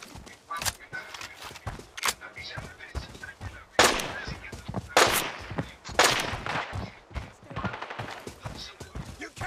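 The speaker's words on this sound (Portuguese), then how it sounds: "Olhando lá pra mansão, os caras trocando tiro lá." Gunfire exchanged near a mansion in a video game: loud, irregular bursts of shots at mid distance, with sharper blasts recurring every second or so amid clattering movement, and talk in the background.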